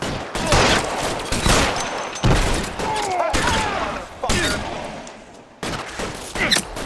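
Shootout in LA Noire: repeated close gunshots and rapid volleys crackle in uneven bursts, with whizzing ricochets and shouted voices mixed in among the fire.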